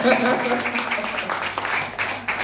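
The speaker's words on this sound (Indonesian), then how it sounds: "tepuk tangan buat beliau ya" Applause from a training-session audience in Bukittinggi, honouring a top leader. Dense broadband clapping runs for the whole moment, with a voice talking over it.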